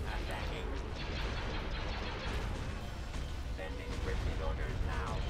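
Broadside cruisers in Star Wars: Empire at War fire artillery in a dense, continuous barrage of rumbling blasts and crashes, loud and unbroken throughout, with voices talking over the battle.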